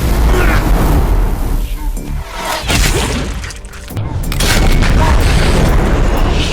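A loud, booming explosion with crashing, shattering debris that rumbles on and swells again, dense and close.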